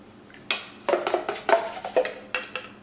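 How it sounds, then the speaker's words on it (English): A metal whisk clatters rhythmically against a bowl of hollandaise sauce, quick irregular taps and scrapes close by, with no talking. "whisk your hollandaise just a little bit more"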